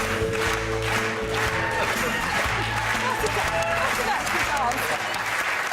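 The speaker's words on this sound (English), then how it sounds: "round of applause for Fabio" Studio audience applause on a comedy panel game show, steady full clapping throughout over a low music bed, with some cheering mixed in.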